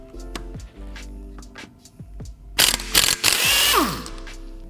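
Pneumatic impact tool spinning off a car wheel bolt through a protective socket, a loud harsh burst of rattling hammering about two seconds long, preceded by faint clicks and handling noise in a garage.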